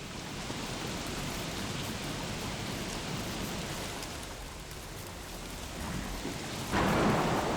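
Steady hiss of heavy rain and low rumbling thunder in the Don't Starve video game, a continuous storm bed that swells into a louder, brighter thunder crash near the end, with no voices.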